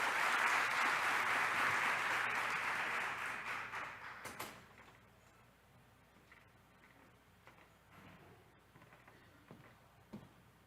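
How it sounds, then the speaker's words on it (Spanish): Audience at a corporate mental-health forum applauding loudly for about four seconds, the clapping thinning out and fading to a quiet room with a few small knocks and ticks. "Un aplauso nuevamente para ustedes."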